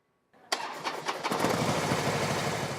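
A Harley-Davidson motorcycle engine starts after a brief click, catching with a loud burst and settling into a steady, throbbing idle rumble nearby.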